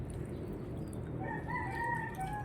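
A Mindanao chicken rooster in a backyard farm crows in a drawn-out wavering call in the second half, over a steady low hum of background noise.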